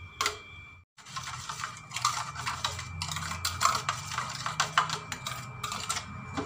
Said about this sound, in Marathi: आता हे छान एकजीव करून घेते मी